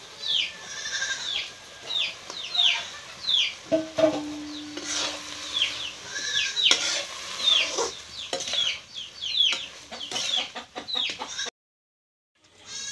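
Hens cluck and cackle repeatedly close by on a rural Assamese homestead where goats are also kept, a busy chatter of short calls with a brief low tone partway through, then a sudden drop to silence.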